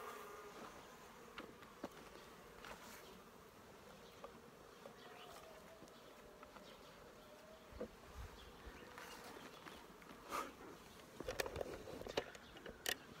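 Native honey bees buzz steadily at a hive in winter while collecting honey, a soft continuous drone with occasional louder passes of individual bees close by and faint ticks and taps.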